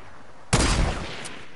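A single loud sniper shot rings out in a video game, a sharp blast followed by a short decaying rumble, with nothing else around it.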